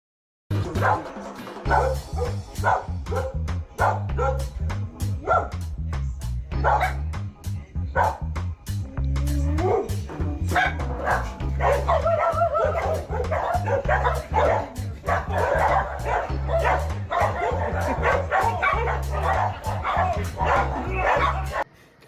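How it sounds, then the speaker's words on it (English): Stray dogs in a street bark repeatedly and whimper throughout, a steady run of close, loud yips and bow-wows with some voices mixed in. "There were stray dogs, but they weren't really coming after him"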